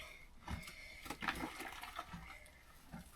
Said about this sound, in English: Right, some fresh rinsing water and we dunk.